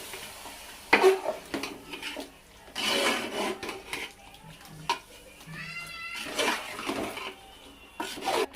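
Green chicken being stirred in a pan with a spoon, steady scraping and soft sizzling rising and falling in bursts, with a few louder clanks against the pan and a faint voice at moments.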